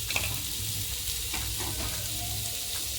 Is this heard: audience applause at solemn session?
no